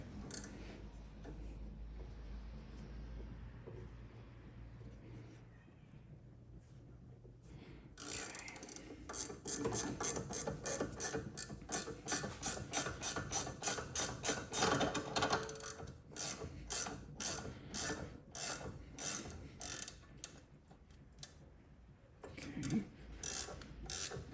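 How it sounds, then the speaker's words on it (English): A valve spring compressor squeezes the valve springs of an LS engine, with quiet mechanical creaks at first and then a long series of close, rhythmic ratcheting clicks that pause and resume. "And then we will once again compress the springs."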